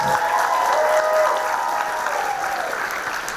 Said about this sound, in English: Give a round of applause to our grant winners.